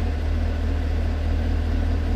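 A used Chevrolet Camaro idles with a steady, even low rumble and exhaust drone, loud and close, with no voices.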